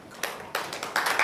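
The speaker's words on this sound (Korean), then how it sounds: "네, 뜨거운 박수." Scattered applause at a founding ceremony for a small-business social media marketing association, a few hands clapping in separate bursts that grow fuller toward the end, moderately close and unaccompanied by talk.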